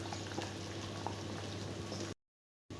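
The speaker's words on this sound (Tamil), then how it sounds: "பாருங்க குழம்பு நல்லா கொதிச்சுக்கிட்டு இருக்கு" Mutton curry with vegetables bubbling in a pot, a soft steady simmer with small pops and bursts, faint and close, briefly cut to silence near the end.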